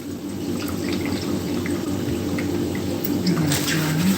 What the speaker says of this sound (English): rinse off the potato